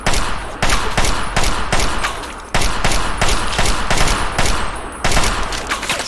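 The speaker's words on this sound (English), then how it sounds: "This gun is jamming an awful lot." Loud, close bursts of rapid automatic gunfire from a gun in Fallout 3, several separate volleys broken by short gaps, each burst a dense rattle of repeated shots.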